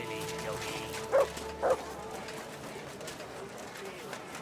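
Two short barks from a dog in Kingdom Come Deliverance II, set in medieval Kuttenberg, come about half a second apart over a steady ambient hum with game background noise.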